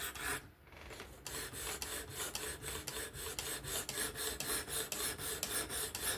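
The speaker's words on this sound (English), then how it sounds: "Now I'm fully sharpening the SPYDERCO." A Spyderco Kapara knife with an S30V steel blade is drawn across a fixed-angle sharpener. The soft, steady rasping strokes repeat rhythmically about twice a second, faint and close, after a short pause at the start.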